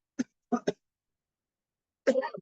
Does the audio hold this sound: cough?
yes